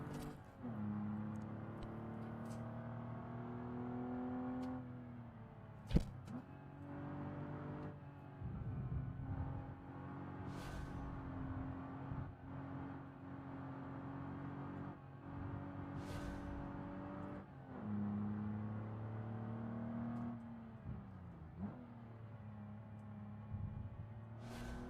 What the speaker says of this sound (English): I'm liking the pops coming from this exhaust